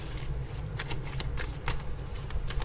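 Tarot cards being shuffled by hand at close range, a rapid run of crisp riffling flicks and soft slaps that continues throughout.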